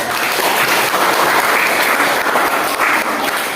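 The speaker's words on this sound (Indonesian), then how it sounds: "Tepuk tangan dulu." An audience in an Indonesian teacher-training classroom session claps together in a steady, dense round of applause, loud and continuous throughout with no voices over it.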